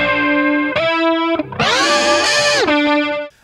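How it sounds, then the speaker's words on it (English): An electric guitar through a multi-effects rig plays a high, chorus-laden distorted line, with a whammy pedal bending the pitch up and back down in the middle before the notes cut off. "it's like a chorusy kind of high-pitched sort of thing like this"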